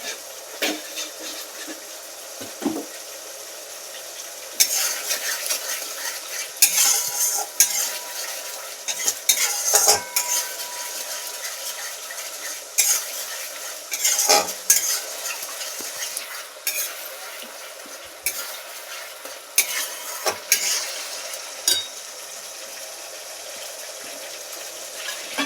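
A spatula stirs food in a pan for raw banana kofta curry, making repeated scraping and clinking bursts over a low, steady sizzle, close and fairly loud with short pauses between strokes.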